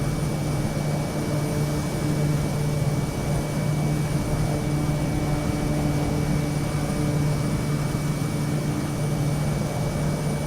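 A steady airplane engine drones without pause in Microsoft Flight Simulator, flying over Papua New Guinea. The loud hum holds an even tone throughout, with no voices.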